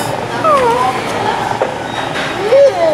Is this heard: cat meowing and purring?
yes